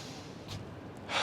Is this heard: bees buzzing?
no